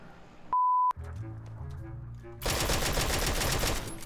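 Rapid automatic gunfire in the battle royale game PUBG, loud and dense bursts taking over after a short electronic beep and quieter game sounds, with echoing shots continuing to the end.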